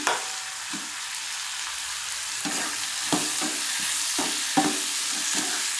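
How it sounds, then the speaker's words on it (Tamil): Ginger frying in a pan with grated coconut added. A constant hissing sizzle runs throughout, broken by several quick spatula scrapes and stirs, close up with no speech. "இப்போ வந்து நான் தேங்காய் போடுறேங்க கொஞ்சம்"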